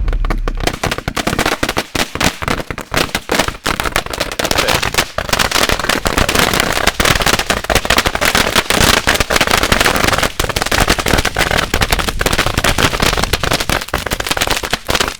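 A firework barrage cake firing 650 shots sends out a relentless, very loud stream of rapid crackling bangs and pops, dense and continuous from start to finish with no pauses.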